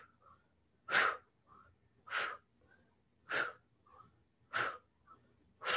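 Five strong, evenly spaced breaths forced out during an ab exercise, each a close, breathy rush about a second apart. Softer inhales fill the gaps between them.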